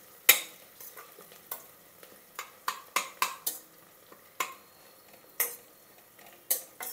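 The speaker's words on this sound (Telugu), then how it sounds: "తర్వాత అల్లం వెల్లుల్లి పేస్ట్ వేద్దాం కొద్దిగా" Ginger garlic paste frying in a pan for kichidi, with a faint sizzle under repeated sharp scrapes and clinks of a spoon stirring against metal, close and irregular.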